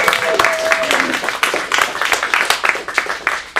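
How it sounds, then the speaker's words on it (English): An audience at an adult acting studio showcase claps in a steady, dense round of applause, close and moderately loud, with a voice briefly heard over it. "Round of applause for them."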